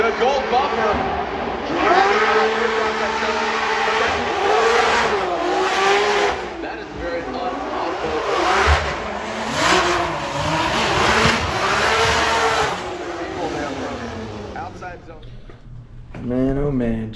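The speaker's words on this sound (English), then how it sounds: "Back to back and 3-time Formula Drift champion, Frederick the Norwegian Hammer Osbo" A Formula Drift car at Long Beach revs hard while drifting, with engine wail rising and falling over tire noise, heard under continuous excited commentary.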